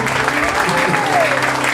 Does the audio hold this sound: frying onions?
no